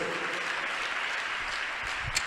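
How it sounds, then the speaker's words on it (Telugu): A church congregation at a Krupa Ministries service in Guntur claps in unison, a faint, even wash of many hands heard from a distance for a couple of seconds. "కొట్టు కొట్టు చప్పట్లు కొట్టు"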